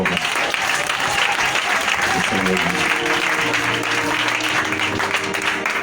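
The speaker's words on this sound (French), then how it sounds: "j'aimerais qu'on acclame très fort" A church congregation at a worship service applauds loudly and steadily, a thick wash of clapping with crowd voices and music tones rising underneath.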